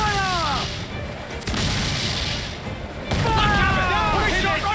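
Heavy ship cannon fire from a naval battle in Assassin's Creed IV Black Flag, with booming volleys and crashing impacts over continuous rumble, loud and close, mixed with shouting voices.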